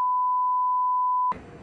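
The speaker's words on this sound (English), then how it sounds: "Oh, I got this thing called an OPSEC buzzer." An OPSEC buzzer sounds one steady, pure electronic tone for a little over a second, then cuts off abruptly into muffled background noise.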